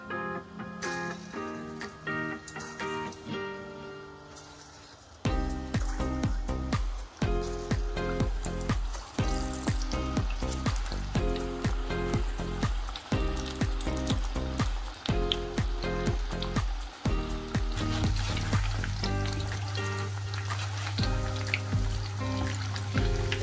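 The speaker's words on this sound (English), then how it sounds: "I'm gonna put in the chicken balls" Cheese-filled chicken balls fry in oil over medium-low heat, starting with quiet crackles before a louder, denser bubbling sizzle takes over and continues steadily up close, without talking.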